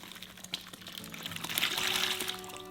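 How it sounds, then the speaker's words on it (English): A pineapple and water mix is poured into a bowl of minced pork for homemade sausages, a soft, close liquid splash and trickle that swells over a couple of seconds, with no talk. "I'm going to add our pineapple and water mix"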